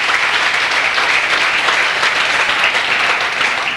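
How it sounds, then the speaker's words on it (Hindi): Loud, sustained applause from a live audience at a speech event, dense steady clapping throughout with no break, close and full. "एक बार ईश्वर के लिए जोरदार ताली होनी चाहिए"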